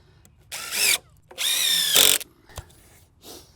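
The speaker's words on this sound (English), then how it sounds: "these joist hangers we add on afterwards, okay, to screw into the rim joist" A power drill drives screws into joist hangers on a wooden shed foundation frame, with several short whining bursts separated by pauses and a brief knock between them.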